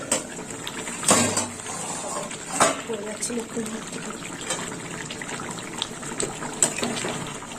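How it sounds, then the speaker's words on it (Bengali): Water is poured into a simmering pan of parshe fish curry with eggplant, giving two brief splashing gushes over a low, steady kitchen background. "আর একটু জল দেব"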